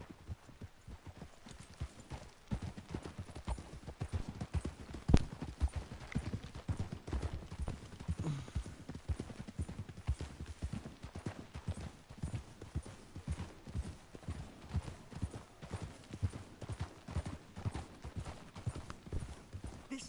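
Horses walking with a steady, unhurried clip-clop of hooves, fairly close and continuous, with occasional creaks and faint shuffling around them.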